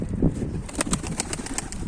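A quick run of rapid wing flaps, close by and fairly loud, as a female pigeon lifts off with a faint coo at the start.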